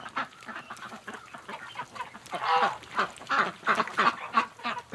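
A group of ducks on a winter outing quacks close by in repeated, overlapping calls, growing louder and busier midway, with no one talking.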